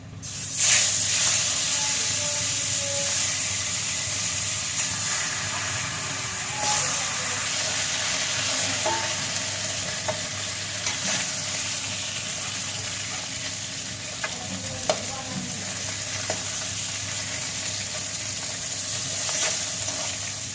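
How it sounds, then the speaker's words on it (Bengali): Steady frying hiss and sizzle of a fish head in hot oil, continuous throughout with occasional soft pops and stirring clicks, no voices. "মাছ ভাজা মাছের মাথা ভাজা"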